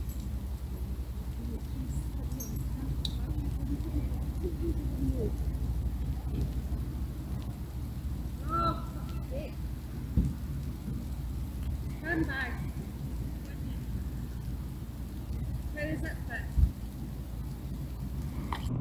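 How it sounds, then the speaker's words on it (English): Midges hopping against the inside of a tent fly make a steady soft patter much like light rain, continuous throughout with scattered sharper taps, while distant voices talk faintly in the background. "There's the sound of midges hopping against the inside of the fly."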